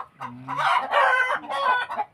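Rhode Island chickens clucking up close, a rooster-like crow mixed with rapid throaty clucks in short bursts, loud and alone.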